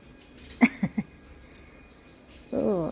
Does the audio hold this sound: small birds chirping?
yes